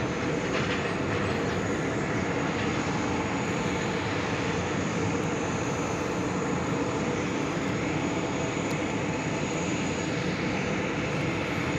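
A Delta Connection CRJ 900 LR regional airliner arriving at JFK from Buffalo, New York, a steady distant engine roar with a high whine that holds evenly throughout.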